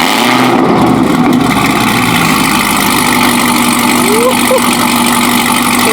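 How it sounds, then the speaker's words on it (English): A car engine idles steadily and loudly after a cold start, a continuous low rumble with a brief faint whine partway through. "we can't get it going without the cold start"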